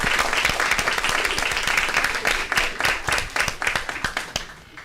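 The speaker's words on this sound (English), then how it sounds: "So how about a big round of applause for those folks?" Audience applause at a school board meeting after a high school group's performance, steady dense clapping that thins out toward the end into scattered individual claps.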